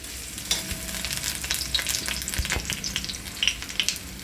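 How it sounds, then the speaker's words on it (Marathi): Onion bhaji frying in hot oil, giving a steady close crackle and bubbling with occasional sharper pops and a few light stirring scrapes, no voices. "कांदा भजी म्हणजे नेहमी ना लालसर होपर्यंतच भाजायचा असतो"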